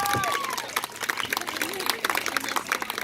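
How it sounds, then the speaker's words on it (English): Audience applause for children performing at a Korean festival, a steady patter of many hands clapping with crowd noise and some talking mixed in. "Give a big of applause to the kids"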